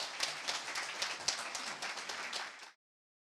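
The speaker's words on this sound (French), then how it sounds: "On peut applaudir notre présidente quand même." An audience applauds the presiding judge of a court with a dense burst of clapping that holds steady for over two seconds and then stops abruptly into silence.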